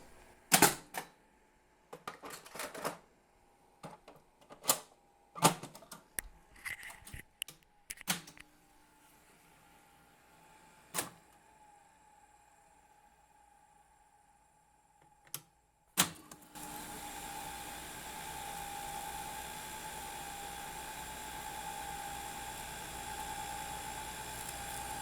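Sharp mechanical clicks and clunks of a U-Matic tape deck come first, then a steady whirring hiss as the tape spools rapidly in fast-forward and rewind.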